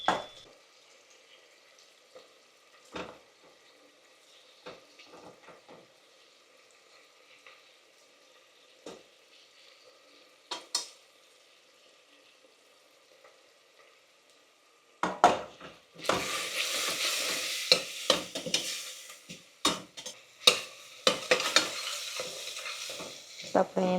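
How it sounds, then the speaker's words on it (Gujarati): Tomatoes and masala cook in a pan, with sparse spoon taps against the metal at first, then a loud burst of frying sizzle joined by brisk, repeated stirring scrapes for the final stretch. "તો આપણે થોડો ફાસ્ટ ગેસ કરીએ અને મસાલો કૂક કરી નાખીએ."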